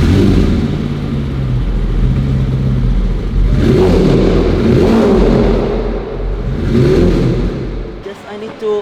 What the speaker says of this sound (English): sounds a bit lumpy, you know that that's the cylinder that's misfiring